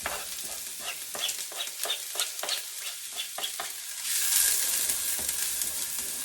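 Red sauce ingredients for a vegetarian pasta sauce land in a hot pot on an electric stove: a rapid series of spatters and stirring clicks, then a swelling, steady sizzle, with no talk.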